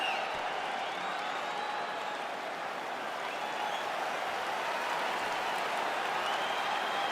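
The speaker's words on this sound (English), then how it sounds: "an appreciative capacity crowd on its feet as this next round gets underway" A capacity arena crowd in the UFC 5 video game applauds and cheers steadily between rounds, a dense, unbroken wash of clapping and crowd noise with faint commentary-like voices beneath.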